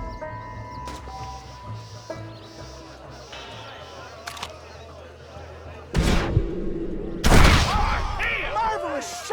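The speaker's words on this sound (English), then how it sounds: "Marvelous shot, dear boy." Gunfire in the western video game Red Dead Redemption on PC, a couple of loud sharp shots near the end that ring out over a quieter stretch of game ambience and music, with no voices over the blasts.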